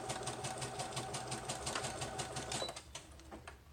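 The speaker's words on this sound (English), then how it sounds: "Okay, hold on while I sew. Just do this really quickly here." A sewing machine stitches quickly in a steady, fast mechanical patter for a few seconds, then stops, leaving a quieter room.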